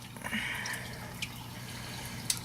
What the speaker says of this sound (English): So I'm just gonna take some more water out.